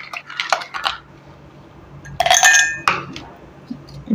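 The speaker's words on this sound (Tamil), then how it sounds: "இப்போது ஐஸ் கியூப் வந்து ஒரு மூணு" Three ice cubes dropped into blended carrot juice in a kitchen, heard as a few close clinks and knocks against the vessel with soft liquid sounds between them.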